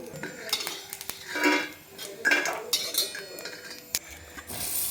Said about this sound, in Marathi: तर हे आपलं खोबरं भाजून झाले आपण एका ताटामध्ये काढून घेऊ